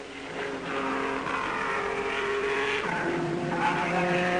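A 1958 Vanwall Grand Prix race car with suspected gearbox trouble rolls to a halt in the pits, its engine droning steadily and close, with the pitch stepping down and a faint tire squeal near the end.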